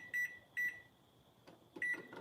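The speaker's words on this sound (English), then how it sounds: "Set the timer for 15 minutes." Oven timer beeping while being set for a strawberry shortcake bake in a home kitchen: three short, bright electronic beeps spaced irregularly, with faint clatter and handling noise between them.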